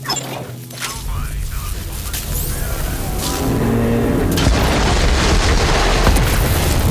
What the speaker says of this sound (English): The explosion echoed through the forest, and those devil rats didn't even get a chance to hit the brakes.